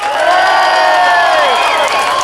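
Large outdoor crowd at a political rally in Glasgow's George Square cheering and whooping loudly for a speaker, a dense, sustained roar of many voices including children, steady throughout with no single voice standing out.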